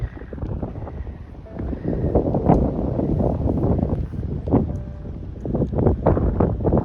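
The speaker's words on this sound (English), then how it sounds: "So windy out." Steady gusty wind at the Conewago Potholes buffets the microphone, a continuous low rumble that swells and eases without stopping.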